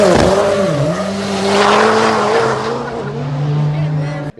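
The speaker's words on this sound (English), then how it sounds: "I'm going to show you a clip from Rosie when Liam raced it at British Rallycross a couple of weeks ago." A rallycross car racing at British Rallycross, its engine roaring loudly with shifting revs, tire squeal and skidding, close and dominant throughout before cutting off abruptly.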